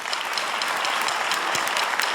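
An audience applauds musicians at a live music event, a dense, even wash of many hands clapping that holds steady throughout, with no voices over it.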